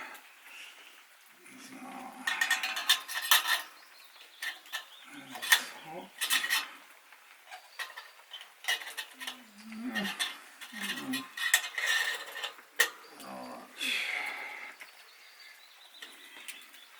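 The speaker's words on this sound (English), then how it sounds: "A little bit of soap, cup and a spoon" A cup and spoon being washed with a little soap outdoors on a rainy day along a Finnish trail: irregular clinks, scrapes and rinsing splashes come in bursts, close and fairly clear, with no talking.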